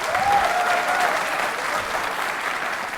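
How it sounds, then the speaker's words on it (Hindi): Audience in a teachers' training college hall applauds during a quiz show, a steady wash of clapping heard alone and slowly tapering, with a faint voice briefly at the start. "इस जानकारी के लिए बजाइए तालियां जोरों से आप"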